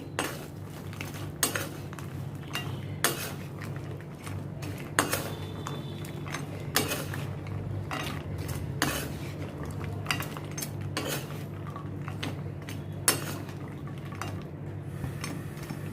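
A spoon scrapes and clinks steadily against a pan while shakarpare are stirred into sugar syrup, the metallic taps repeating at a brisk, uneven rhythm over a low hum, close and moderately quiet.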